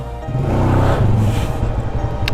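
A Suzuki Fiero 4-stroke motorcycle from around 2000, restored to stock, runs while being ridden: a close, steady low engine drone with a slight rise in revs, loud and continuous over the short stretch.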